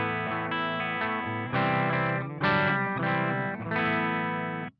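Electric guitar played through a J. Rockett The Dude overdrive pedal with its gain at zero, a clean, slightly edgy tone as several chords are strummed and let ring in a loose rhythm, close and alone.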